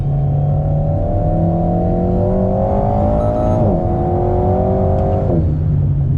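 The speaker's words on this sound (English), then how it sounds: "Blipping on the downshifts." A 2019 Alpine A110 mid-engine car holds a steady loud pitch, then two quick throttle blips rise and drop as gears change down, the motor droning continuously throughout.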